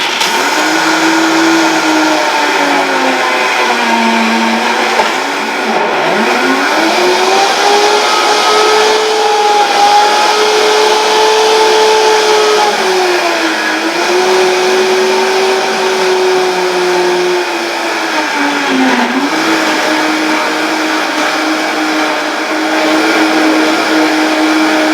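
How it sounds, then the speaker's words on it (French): A kitchen blender dry-grinding cashew nuts for a plant-based yogurt, a loud steady motor whine that rises and dips in pitch as the nuts churn, running continuously without talk. "Là, je moue à sec d'abord, comme toujours. Toujours moudre à sec."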